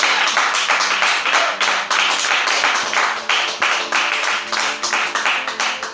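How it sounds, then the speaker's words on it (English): A church congregation claps in unison, giving loud, close, rhythmic claps at a steady beat with no talking over them. "Come on, clap for Jesus."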